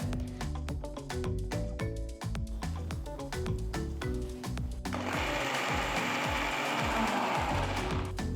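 A mixer grinder grinds coconut chutney with byadgi chillies, first a rapid rhythmic clattering churn, then a sudden switch to a loud, steady whirring roar that continues without talk.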